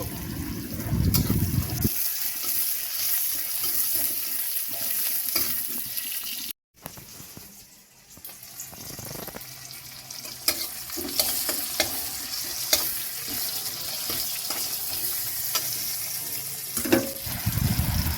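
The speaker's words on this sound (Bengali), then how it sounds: "এক মুঠো পেঁয়াজ দিয়ে ভালোভাবে ভেজে" A handful of onions sizzles and crackles steadily in hot oil in a pan for a fish curry with potato and pointed gourd, a continuous close hiss broken by occasional scrapes of a spatula and a brief drop in sound.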